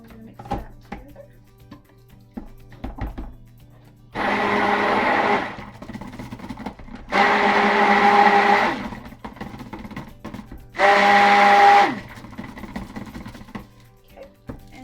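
An electric stick blender mixes soap batter in bursts, three loud whirring runs of a few seconds each separated by quieter gaps with small clinks and handling noises.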